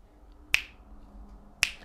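Two crisp finger snaps, spaced about a second apart, land alone against a quiet room background, marking beats two and four.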